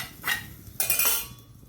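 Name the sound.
transferring sautéed chickpeas into a pot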